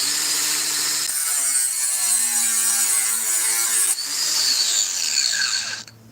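A small Metabo power tool runs loud and close, its motor whine shifting pitch as it bites under load, easing, surging again and then winding down at the end.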